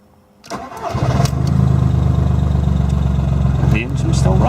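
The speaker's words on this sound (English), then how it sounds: "And I will start the engine." A car engine cranks and catches after an ECU remap, then settles into a steady, loud idle with a deep rumble; a brief blip is heard near the end, and no one talks over it.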